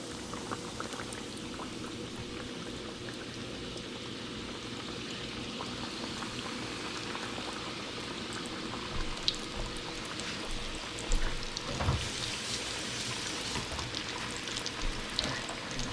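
Freshly caught snapper or bluefish frying in hot oil, a continuous low bubbling sizzle that holds steady and swells slightly in places, quiet and with no voices.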